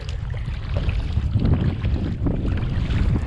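Steady wind roars and buffets the microphone on a kayak out on Puget Sound, with low rumbling gusts and faint water wash running continuously throughout.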